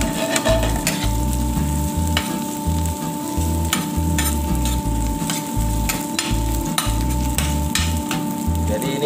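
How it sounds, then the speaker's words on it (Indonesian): Shallots and garlic sautéing in oil for boneless soy-sauce chicken, a dense continuous sizzle close up with a low rhythmic pulsing underneath, no voices. "Tumis bawang-bawangnya hingga harum."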